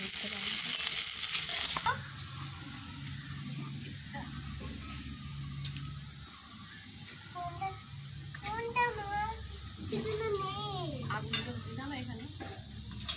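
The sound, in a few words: spice paste (masala) frying in a pan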